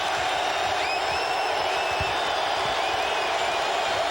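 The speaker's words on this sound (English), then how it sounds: "Into the din of the crowd." Steady roar of an NBA playoff basketball crowd in the arena during a 2001 Milwaukee at Charlotte game, a continuous dense din with faint whistles and whoops rising from the mass of voices.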